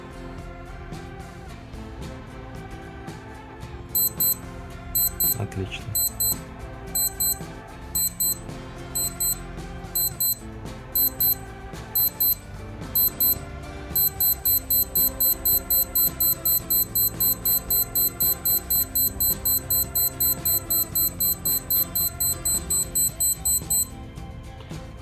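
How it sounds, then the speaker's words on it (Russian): A Timex Expedition T45181 wristwatch sounds its alarm up close: thin, high electronic beeps, first in spaced short bursts and then in a rapid continuous run, over a steady background. A single brief spoken word is heard. "будильник работал примерно 20 секунд"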